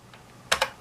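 A few keystrokes on a computer keyboard for a vintage 6502 badge setup: faint soft taps followed by two sharper, louder key clicks close together.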